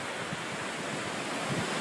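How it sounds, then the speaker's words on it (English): Waves wash onto a beach with polluted, bubbling water, a steady soft roar of surf mixed with wind noise, fairly faint and without voices. "Let's walk up and look at our beach."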